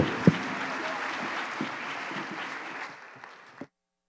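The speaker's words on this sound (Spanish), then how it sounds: "Le pido un aplauso a nuestros panelistas" Audience applause for the panelists at the close of a healthcare management panel session, a broad steady wash of clapping lasting a few seconds with a couple of sharper claps, then cutting off abruptly.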